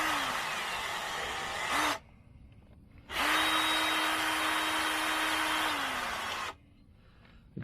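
A power drill runs in two sustained bursts, driving screws to mount a Bauer battery charger, with a steady motor whine that winds down at the end of each run and short quiet gaps between.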